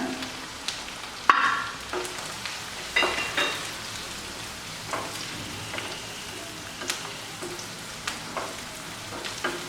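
Onion, ginger garlic paste and masala powder sizzle in a pan for a potato curry, with a steady soft crackle and scattered spatula scrapes and clicks as the mix is stirred, close by and moderately quiet.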